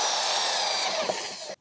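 A power drill whirs steadily during a trailer rebuild, a loud close high-pitched motor drone that runs evenly, then cuts off abruptly near the end.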